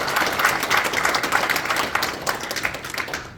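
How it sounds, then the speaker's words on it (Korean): A roomful of people claps steadily and densely at an association's annual general meeting, welcoming guest representatives with sustained applause that fades slightly toward the end. "저 뒤에 앉아 계신데 박수로 한번 환영해 주십시오"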